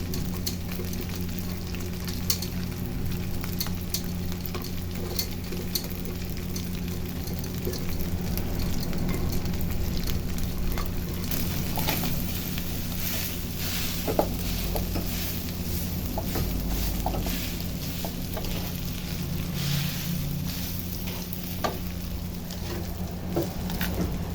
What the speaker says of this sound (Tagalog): yung ating leftover rice ay ipa-fried rice natin.